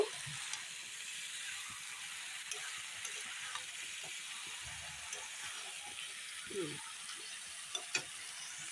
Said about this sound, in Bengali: সুন্দর করে এখন কষিয়ে কষিয়ে রান্না করব